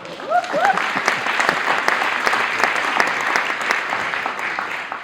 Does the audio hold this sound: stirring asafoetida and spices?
no